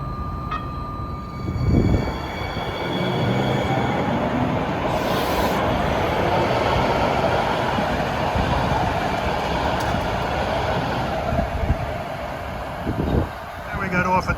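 A Hudson Bergen Light Rail train bound for 8th Street in Bayonne pulls in and runs with a steady rumble and clatter, a faint high squeal, and brief knocks near the start and end.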